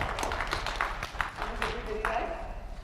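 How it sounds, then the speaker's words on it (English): Audience at a county spelling bee clapping for a contestant, a moderate, scattered round of claps under murmuring voices and room noise. "Shay a round of applause."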